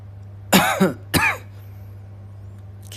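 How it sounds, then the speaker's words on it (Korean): A person coughs twice in close succession, two short, harsh bursts near the microphone, over a steady low electrical hum. "기침이 좀 나네요"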